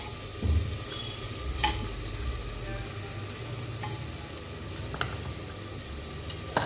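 Ajwain, cumin and salt sizzling in hot oil in a handi while being stirred, a steady close crackle of frying with occasional scraping clinks of the spoon against the pot.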